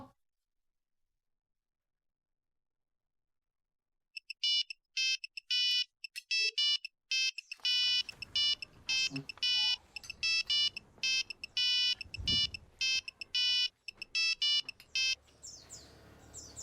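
A phone ringtone plays in short repeated electronic chirping bursts with a steady pulsing rhythm, starting after several seconds of silence and going on over faint background noise.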